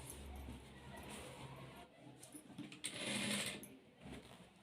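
Sewing machine stitching blouse pieces together, a faint, continuous mechanical hum with small clicks and handling noises throughout.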